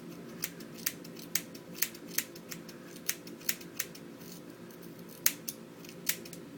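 Scissors snip through hair while trimming bangs with short up-and-down point cuts instead of a straight line. About a dozen crisp, close snips come in an irregular rhythm, with no talking.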